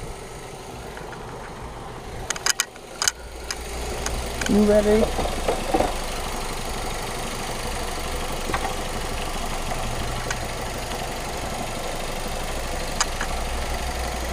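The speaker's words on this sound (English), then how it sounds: "the car's still running" A car engine idles steadily with its battery removed, a low continuous hum running throughout, while a voice speaks briefly and some metallic clanks of battery handling occur early on.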